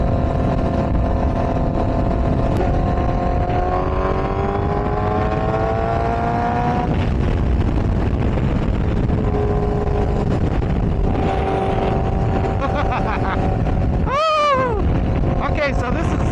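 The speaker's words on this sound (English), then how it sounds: "I'm not gonna lie, this bike is loud." A loud Yamaha R1 sport motorcycle riding, its engine a steady droning whine with rising and falling revs beneath heavy wind noise, and a sharp high-pitched rev sweep near the end.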